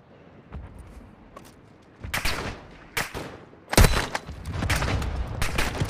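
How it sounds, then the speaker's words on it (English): Call of Duty Warzone Mobile mortar strike: several heavy blasts land in bursts, growing denser and louder, ending in a near continuous barrage of impacts and gunfire. "Friendly mortar strike inbound."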